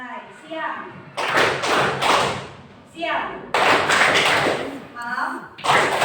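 A junior high classroom of ninth-graders claps in unison during a counting clap game, sharp group hand-claps arriving in loud bursts, with a woman teacher's voice calling out between the rounds.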